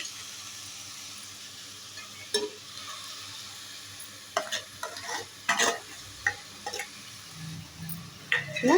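Cashews and raisins frying in ghee-rich bottle gourd halwa, a low sizzle with repeated spoon scrapes and knocks against the pan that grow busier toward the end.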